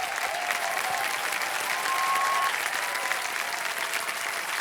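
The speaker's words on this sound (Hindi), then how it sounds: "जोरदार तालियां रंजू जी के लिए।" A television quiz-show studio audience on KBC breaks into loud, sustained applause for contestant Ranju, a dense wash of clapping that holds evenly throughout, with a faint tonal whistle partway through.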